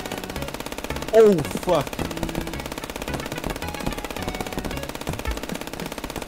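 Rapid automatic gunfire from the Call of Duty video game rattles steadily throughout, with a man's brief exclamation cutting over it early on.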